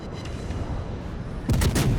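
Heavy naval guns boom in a warship video game, a dense rumbling barrage under a background engine drone, swelling into louder repeated blasts near the end.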